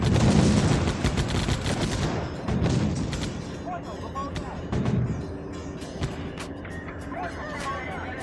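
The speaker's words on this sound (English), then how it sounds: "I can see the explosion. Something is taking shots at them" Gunfire and explosions in the war video game 9th Company: Roots of Terror, with heavy bursts and booms up front easing into scattered shots and rumbling battle, a voice talking over it.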